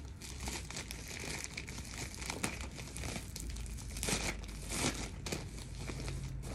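Toy package from an online order being unwrapped and opened up close: continuous crinkling and rustling of plastic and paper packaging, with brief tearing bursts, no talking.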